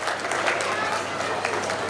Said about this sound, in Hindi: तालियों से स्वागत कीजिए।